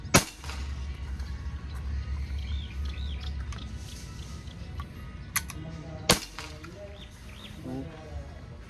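A folding PCP air rifle being test-fired, with two sharp, sudden cracks several seconds apart over steady background hum and faint bird chirps.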